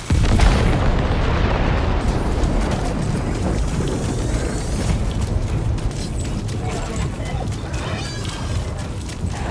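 Weapons fire and explosions in Death Stranding 2, a loud boom at the start followed by a dense, sustained rumbling roar of blasts and mechanical noise, with faint voices under it.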